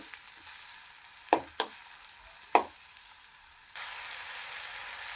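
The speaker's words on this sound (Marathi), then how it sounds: "आता हा आपण कापून घेतलेला एक टमॅटो तो पण टाकून घ्यायचा आणि चांगला गाळ होईपर्यंत फ्राय करायचा" Chopped tomato tipped into a hot pan for palak paneer, with a few sharp stirring clatters and a steady sizzle that grows louder in the last seconds, no talking.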